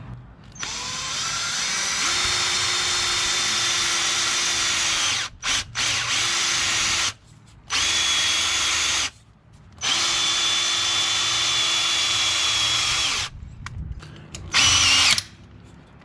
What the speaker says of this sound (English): Now we're going to use some self-drilling screws here.